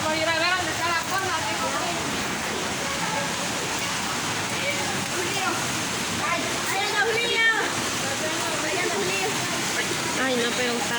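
A waterfall pours with a dense, continuous roar of rushing water, loud and close throughout, while voices talk over it.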